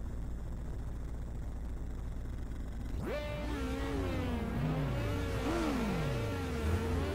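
Race car engine from the Ridge Racer 2 racing game on the Crimson Rock Pass course, silent at first, then revving up loudly with rising and falling pitch sweeps for the last few seconds, with no talk.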